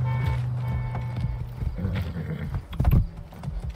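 Rapid rhythmic hoofbeats of a galloping horse in Far Cry 6, close and steady, with a brief whinny near the end.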